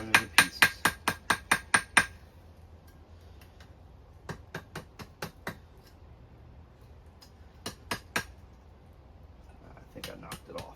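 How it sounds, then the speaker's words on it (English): A hammer strikes a hot chain link on an anvil during forge welding, starting with a fast burst of about eight light, ringing taps, then pausing before sparser groups of taps separated by quiet gaps. "It's sparking, so light hammer blows"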